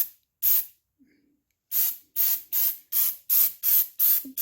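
Aerosol can spraying a thin rust-prevention coating onto the metal lawn mower deck: eight short, loud hissing bursts, one alone and then seven in a quick, even rhythm, close by.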